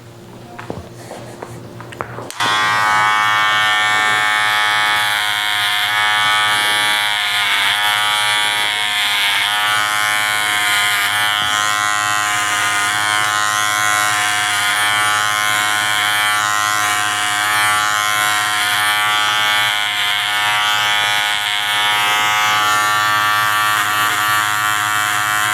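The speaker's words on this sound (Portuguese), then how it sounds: "vamos deixar bem delimitado exatamente aonde vai ser o limite da passada de máquina na parte de cima." Electric hair clippers buzz steadily and loudly for about 23 seconds, switching on after a brief quiet start, while cutting a V-shaped fade haircut worked from the bottom up.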